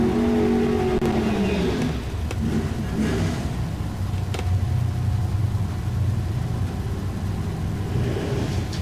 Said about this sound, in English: All right, the Gary Juniors are staging up on the starting line.